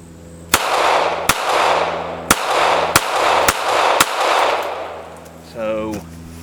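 A Smith & Wesson Bodyguard .380 pistol fires six sharp, loud shots at a target at an uneven pace, each a hard crack with a short ring-out, and a brief voice sounds near the end.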